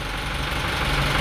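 A Scania P380 6x4 dump truck from 2008, its DC12 Euro 3 diesel engine idling as a steady, dense low rumble with rough knocking texture, close and continuous.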